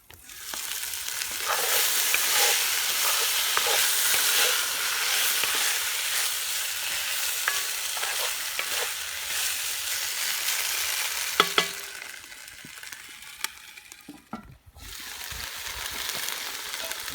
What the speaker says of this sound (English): I'll just brown this beef up, and when it's ready, then we'll go to the next step.